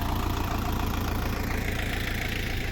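A KENTAVR 404SD tractor engine runs steadily while pulling a 2-30 plow through a field in the last plowing of the 2024 season, a close, continuous mid-to-low throbbing drone with no talk over it.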